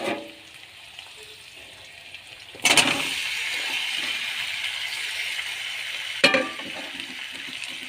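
Chicken pieces coated in ginger-garlic paste go into a pan of fried onions for chicken kasha, setting off a loud, steady sizzle after a quiet start, with a second sharp crackling burst near the end.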